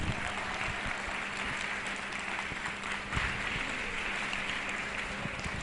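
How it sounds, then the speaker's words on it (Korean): An audience at a youth talk concert applauds a clay animator, a dense, even wash of many hands clapping at a distance, steady and fairly faint for several seconds. "수고해주신 우리 클레이 애니메이터 홍석화 대표에게 다시 한번 여러분 큰 박수 부탁드릴게요"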